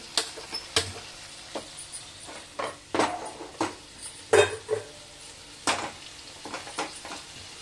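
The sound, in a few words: sautéing bottle gourd and ridge gourd in a pan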